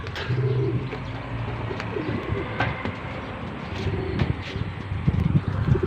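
Racing pigeons coo low and steadily inside a loft in the morning, with a soft breezy background and a few brief clicks or knocks scattered through, and no talk.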